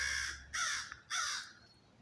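A crow caws outdoors, three harsh calls in quick succession, loud and close, standing alone.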